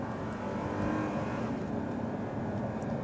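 A 2012 Audi R8 supercar engine drones steadily from inside the cabin, a continuous low mechanical hum with slight swells in revs and no distinct peaks, fairly loud and unbroken throughout.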